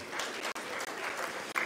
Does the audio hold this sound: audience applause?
yes